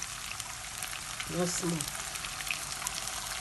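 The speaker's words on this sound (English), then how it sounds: "So I'm going to add a little bit of water." Onions frying in a pan with a little water added, a steady hiss and crackle with a brief burst of bubbling partway through, under someone talking.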